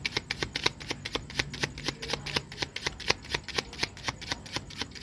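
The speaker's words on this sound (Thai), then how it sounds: "ผมจะทำการสับไพ่ทีหนึ่ง" Playing cards riffled and shuffled by hand during a card trick, a rapid, even run of crisp flicks heard close up and alone.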